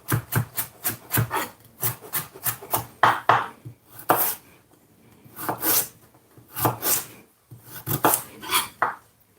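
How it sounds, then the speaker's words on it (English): A kitchen knife julienning vegetables on a cutting board: rapid bursts of crisp, close chopping taps in quick runs, separated by short pauses and scraping rubs against the board. "I'm gonna julienne these."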